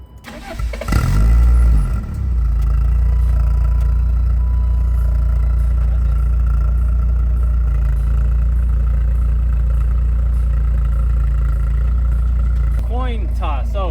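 A BMW E36 cold start: the starter cranks briefly, the engine catches with a loud flare of revs, then drops into a steady, close, rumbling idle that holds for the rest of the recording.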